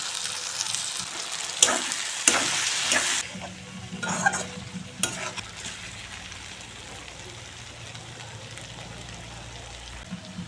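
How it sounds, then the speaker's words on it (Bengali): Okra and potatoes fry in fish oil, no other oil added; loud sizzling bursts and scraping stirs come first, then the pan settles into a quieter, steady crackle. "আমি আলাদাভাবে কোনো আর তেল দেইনি মাছের তেলেই বেন্দি আলু ভাজা হয়ে যাচ্ছে"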